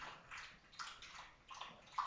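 Water from a shower runs somewhere out of sight, a soft, faint, continuous hiss that swells and dips a little, distant and muffled, with no voices.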